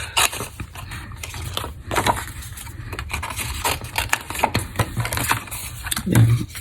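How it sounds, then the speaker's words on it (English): Scissors snip around a stamped paper flower for a handmade card tag, close crisp cuts in an uneven rhythm with paper rustling and a few louder knocks on the table. "I'm going to fussy cut the flower out"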